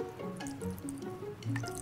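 Vinegar is poured from a container into a bowl for a kids' crystal-growing experiment, giving a continuous bubbly trickle and dripping with rising glugging tones, close and clear, with no talking.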